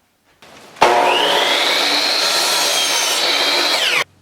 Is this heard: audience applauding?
no